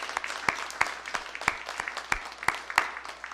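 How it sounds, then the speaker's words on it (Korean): Members of a church congregation clap in a loose, somewhat rhythmic pattern to welcome visitors from another church, with distinct nearby claps standing out over fainter ones. "한번 안부를 박수를 한번 하겠습니다"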